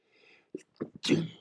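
A single sneeze up close, preceded by a few quick sharp intakes of breath before the explosive burst.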